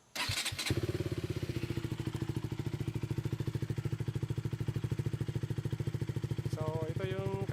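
A KTM Duke 200 fitted with an Akrapovic titanium slip-on open-pipe exhaust starts with a couple of thumps, then idles loud and close with a rapid, even, throbbing exhaust pulse, with brief rising revs near the end.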